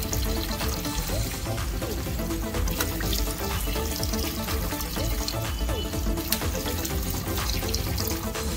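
Water runs steadily into a bathroom basin as a face is rinsed after a facial, a continuous splashing wash with no talking.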